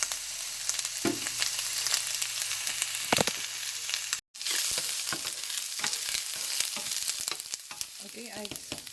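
Garlic frying in a pan with steady, loud sizzling throughout, broken by a few clicks and stirring sounds and one brief dropout.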